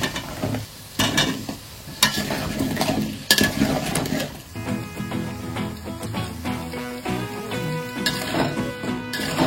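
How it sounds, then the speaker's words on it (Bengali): Potatoes frying in a pan as part of a mutton curry, a steady crackling sizzle broken by scraping stirs and clinks of a utensil against the pan, close and fairly loud with no talk. "এখানে মাংসের আলু ফ্রাই করা হচ্ছে"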